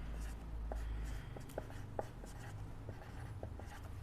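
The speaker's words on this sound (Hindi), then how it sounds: "तो मैं इसको यहाँ पे लिख रहा हूँ एंटोनियो के बारे में" Pen writing by hand on paper, faint close scratches and small taps in short strokes against a quiet low hum.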